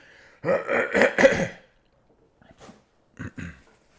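A few harsh, raspy coughs in quick succession, close by, from a person with a lingering cough, followed by a short pause and two fainter throaty bursts.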